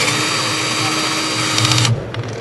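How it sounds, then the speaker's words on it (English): A rivet tool setting an exploding-type rivet; a loud continuous mechanical whirring drone throughout, with a brief burst of rattling near the end before it eases off. "Now we're going to show you the typical competition's exploding rivet."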